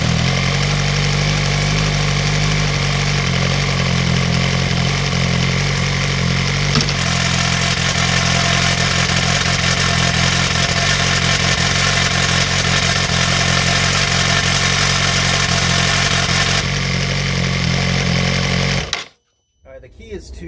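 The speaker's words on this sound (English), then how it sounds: "I'm going to put the video up on screen of the exhaust valve making noise when the bike is turned on." A Suzuki GSX-R motorcycle idles with its exhaust valve rattling, a steady, loud mid-pitched engine drone with a buzzing mechanical chatter running through it, held close for nearly twenty seconds before cutting out abruptly at the end.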